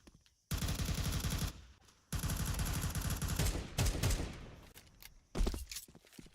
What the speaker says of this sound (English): No way with that AK.